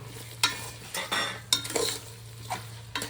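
A spoon stirs tomatoes into pulao in a pot, making a series of close scraping and clinking strokes over a soft background sizzle, with no speech.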